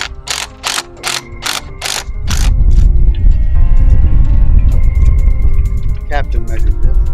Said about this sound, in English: We have to secure the fasteners to the brackets.